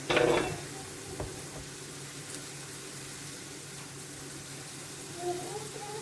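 Fried eggs sizzle in a pan with a soft, steady crackle beneath the faint background, opening with a brief louder burst of spattering.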